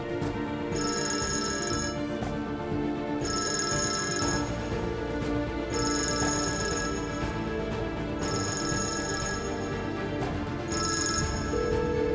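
A telephone ringing in a Turkish drama scene: five loud electronic ring bursts, each about a second long, repeating in a steady rhythm over a music bed, with no voices.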